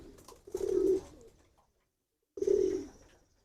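Racing pigeons kept together in one room coo in two soft, throaty bursts separated by a second of quiet, close and clear with no talk.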